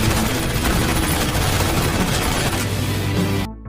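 Gunfire erupts in a film shootout, dense overlapping shots and bursts filling the scene loudly without a break before cutting off abruptly at the end.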